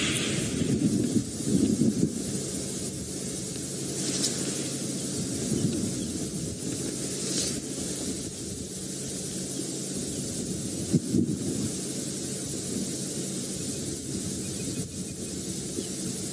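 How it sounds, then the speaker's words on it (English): Steady, soft wind rushes across an outdoor scene, with gentle gusts swelling and easing over a faint broadband hiss. "you can hear it's quite a quiet day today with this overcast kind of windy weather"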